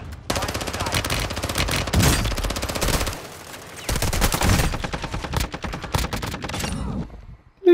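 Rapid bursts of gunfire in a Call of Duty Warzone kill montage on Ashika Island, loud and dense with brief pauses between volleys, carrying on for most of the stretch with no talk over it.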